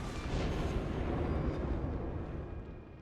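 Secondary guns of a New Mexico battleship firing in World of Warships, a steady dense rumble of booming naval gunfire throughout with no talk.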